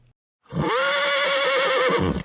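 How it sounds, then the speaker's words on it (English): Wild horse near Sundre, Alberta gives one loud, close neigh lasting about two seconds, with a long wavering whinny and a few faint hoof sounds, no voices. "The wild horses of Sundre."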